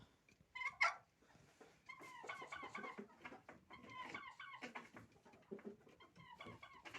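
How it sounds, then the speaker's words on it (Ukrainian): Turkey hen in a metal cage near nesting boxes, giving soft repeated clucks and chirpy calls, faint and fairly close, with one sharper call near the start. "От така індичка."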